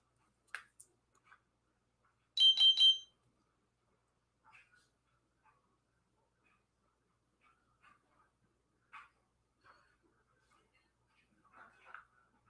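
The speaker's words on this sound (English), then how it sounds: "my diabetes alert is lost signal and it's beeping at me" A diabetes alert device beeps over a lost signal: a short cluster of high, bright electronic tones breaks the near silence, followed by faint scattered clicks.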